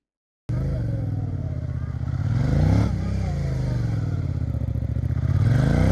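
Motorcycle engine droning steadily while riding through mountain hairpin bends, with a brief swell of revs midway and continuous road and wind noise throughout.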